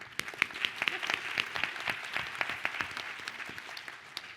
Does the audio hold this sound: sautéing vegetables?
no